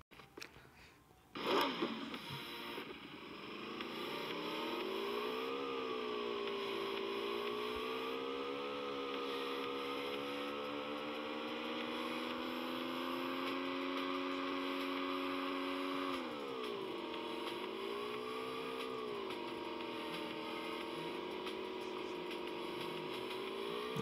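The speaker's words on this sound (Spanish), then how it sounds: "Sí, una moto, chicos, miren. No esperaba encontrar una moto." Motorcycle engine in PUBG Mobile, a steady droning motor that starts after a brief burst, holding a loud continuous tone with pitch rising and falling as the bike revs and shifts, alone without talk.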